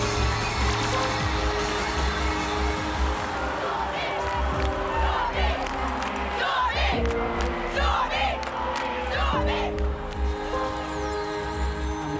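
A sold-out crowd cheers and shouts inside a field house at a cheerleading competition, a loud, sustained roar of many voices with whoops and rising swells, continuous from start to finish.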